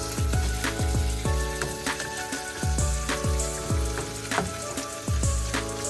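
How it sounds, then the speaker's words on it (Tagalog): Beef and broccoli stir-frying in a pan, a loud steady sizzle with repeated scraping and clanking strokes of a utensil against the metal, close and without speech. "We're cooking stir-fried beef with broccoli for a change."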